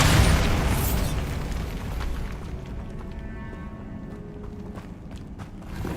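A Bombarda spell explosion in Hogwarts Legacy, a heavy boom at the start that fades into a rumbling, crackling tail with scattered debris-like clatter and footsteps.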